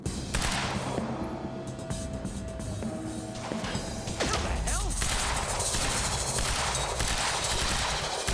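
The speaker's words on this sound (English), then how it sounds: "I'm about to run out of bullets on this gun." Gunfire and impact effects from the action game Quantum Break rumble through a dense, steady mix of combat sounds, with scattered shots and crashes blending together at a constant loudness.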